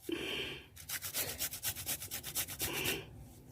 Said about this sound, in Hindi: ये देखिए, इसको हम घिस रहे हैं और घिस करके